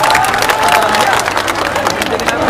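A large crowd at an election rally in Morena, Madhya Pradesh claps and cheers to welcome Mayawati, producing a dense continuous applause with a general murmur and faint voices mixed in.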